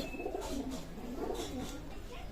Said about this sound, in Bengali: এখানে এক জোড়া তুলা কবুতর আছে, রানিং পেয়ার